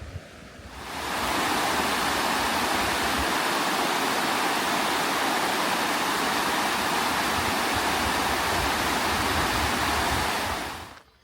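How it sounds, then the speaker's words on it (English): Water pouring over a weir on the lake at Clumber Park, a loud, dense, constant rushing roar that rises quickly at the start and fades out at the end, with no voices. "We're just going to cross over the weir here"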